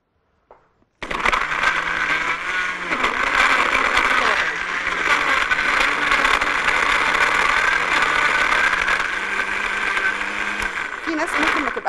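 An electric kitchen blender runs steadily, blending a thick avocado juice with a little water, a loud continuous whirring motor with churning that starts abruptly after a brief silence and holds throughout.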